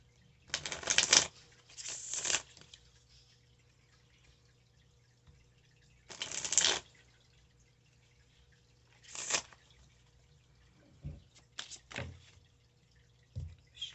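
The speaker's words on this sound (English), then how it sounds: "Let me give this a new shuffle," Tarot cards are shuffled by hand in several brief riffling bursts separated by quiet pauses, close and fairly soft.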